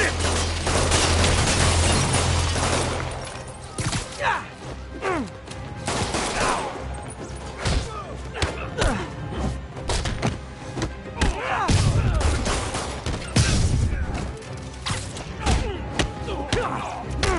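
Gunfire from criminals in Marvel's Spider-Man game erupts in rapid bursts mixed with heavy thumps, whooshes and impacts, a dense, busy action scene with constant hits and movement.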